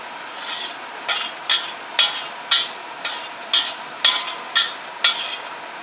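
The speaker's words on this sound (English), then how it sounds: "A lot of garlic, chopped garlic, chopped garlic into the frying pan." Chopped garlic fries in a pan under a soft, steady sizzle, broken by about a dozen sharp, regular scraping stirs close by, with no talking.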